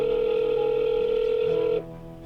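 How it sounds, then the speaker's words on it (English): Telephone ringing unanswered, a loud continuous electronic tone that holds steady and then cuts off abruptly, leaving a quieter lower hum. "The phone just rang and rang endlessly."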